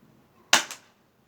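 A single small gun fires at a target, a sharp close crack followed by a quick second snap or echo, then silence.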